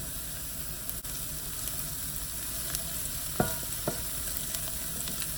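Squash frying in butter in a pan until golden: a quiet, even sizzle with a few faint pops and light stirring taps.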